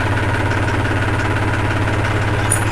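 Tractor engine idling steadily at close range after the machine has been brought to a stop, a low, even, continuous rumble with a faint regular throb and no talk.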